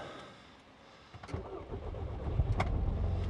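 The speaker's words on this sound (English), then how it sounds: "Well, the car starts." A car engine cranks and fires up during pouring rain on a sodden field, with a short starter whir followed by the engine catching and running at a rough, rising idle.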